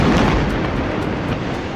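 A bomb blast sound effect: a loud, deep explosive rumble hits at the start and rolls on, decaying slowly over about two seconds with no voices.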